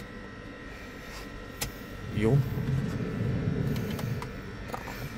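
A Nissan Xterra's AC blower fan runs with a steady, even whirr and airy hiss, staying constant while someone talks over it close by.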